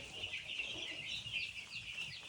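Faint, steady chorus of five-day-old broiler chicks, about a thousand birds, peeping and clucking together, a continuous high chatter with no voices.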